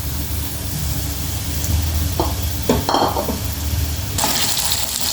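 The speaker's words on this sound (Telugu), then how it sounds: "ఇప్పుడు మనం సరికాయ కొంచెం ఫ్రై చేసుకుందాం" Bottle gourd pieces fry in hot oil with a steady, close sizzle, broken by a few stirring scrapes and utensil knocks, with a brief wash of water-like hiss near the end; nobody speaks.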